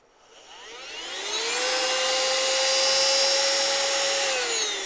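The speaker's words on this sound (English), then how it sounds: "It's a cool little vacuum." A small handheld car vacuum cleaner whirs up to speed and holds a steady high-pitched motor whine, loud and close, with no talking.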